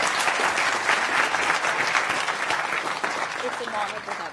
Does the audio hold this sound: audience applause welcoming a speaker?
yes